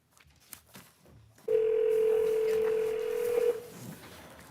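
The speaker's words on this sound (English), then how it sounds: "If you want to just dial that number, and she will be ready for speaking." A telephone number is dialed on a courtroom speakerphone: a steady dial tone holds for about two seconds, with faint tone beeps near its end and quiet room noise before it.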